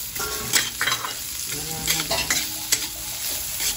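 Plenty of onions sautéed in a pan for a pork rib and chicken tinola-style dish, a close, steady sizzle with repeated scraping stir strokes and occasional utensil knocks.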